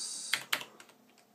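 Keystrokes on a computer keyboard connected to an Amiga-style Chameleon 64 setup: a few separate clicks, two crisp and close followed by softer, quicker taps, alone over faint background hiss.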